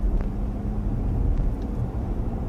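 A BMW car drives in electric mode on the comfort setting, giving a low, steady cabin rumble and road noise with no engine note and no talking.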